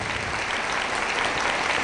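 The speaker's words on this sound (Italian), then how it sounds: "Facciamo un applauso, grazie." A short burst of audience applause at a Neapolitan song broadcast, loud and continuous clapping with no talking.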